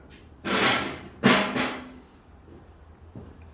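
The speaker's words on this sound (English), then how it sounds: "you actually want to be able to hammer it in like that." Two solid, resonant thuds a second apart as a wooden workbench piece is hammered into place, followed by a faint tap in a quiet room.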